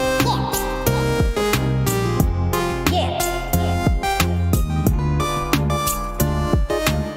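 A steady run of melodic notes from a synth or keyboard, moving through low and high registers with a full, continuous tone and no talking.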